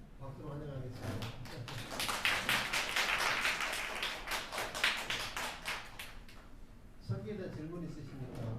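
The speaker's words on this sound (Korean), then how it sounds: "장로님 박수로 환영하겠습니다." A church congregation applauds to welcome an elder, a swelling burst of many hands clapping in the middle, rather faint and distant, with speech before and after.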